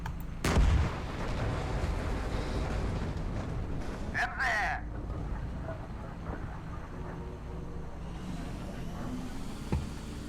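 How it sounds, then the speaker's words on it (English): A big explosion in the tank video game GHPC: one sharp, heavy boom up front, followed by a lingering rumble and distant battlefield noise, with a voice in the background. "You want to see a big explosion?"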